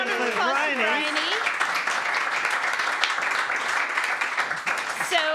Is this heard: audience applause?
yes